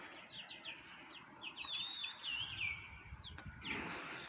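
Chickens and newly bought chicks cluck and chirp close by, with bright peeping calls coming in short bursts over a steady outdoor background hum.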